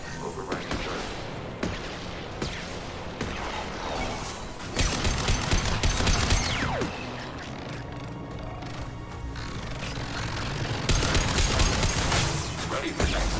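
An automated turret in Mass Effect fires in repeated bursts of sharp rapid shots, loud and close, with crashing impacts and louder volleys near the middle and end.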